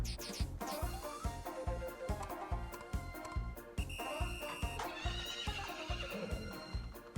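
During a horse race in the Story of Seasons farming game, galloping hooves pound in a fast, even rhythm while a horse whinnies, all over bright background music.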